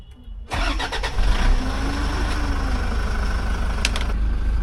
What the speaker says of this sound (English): turn it as if you're starting the car.